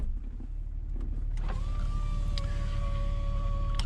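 Power window of a Jeep Cherokee XJ whirring in a steady electric motor whine for about two seconds, close inside the cab with low engine idle beneath.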